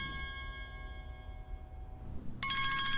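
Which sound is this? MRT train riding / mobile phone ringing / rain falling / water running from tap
mobile phone ringing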